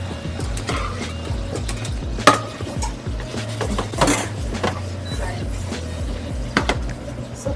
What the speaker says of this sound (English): And saute with the butter and sage.